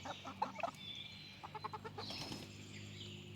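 A rooster and hens in a backyard coop make soft, scattered clucks and brief wing flaps, fairly faint and close by, with no clear crow.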